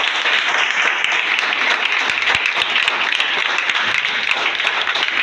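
A church congregation claps and applauds together, a dense, steady roar of hand claps that holds at the same loudness for several seconds.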